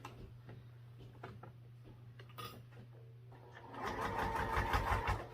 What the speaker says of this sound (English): so now we'll just sew this on at our 1/4 inch seam allowance.